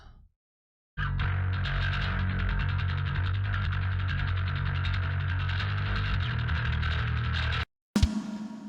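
Black metal bass guitar track playing alone, a steady, dense low rumble with a buzzing upper edge that holds evenly for several seconds before cutting off abruptly.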